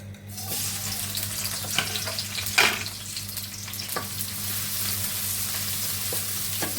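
Vegetables, Maggi vegetable masala and an egg frying for a quick fried-rice-style pasta, a steady close sizzle with scattered stirring scrapes and a sharp clatter near the middle, under a constant low hum.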